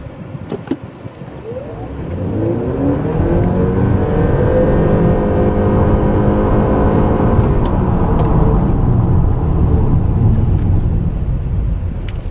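A 2014 Honda Accord Hybrid engine driven at full throttle gives a loud, steady drone with rising harmonic tones, building over the first couple of seconds and then holding constant, with no talking.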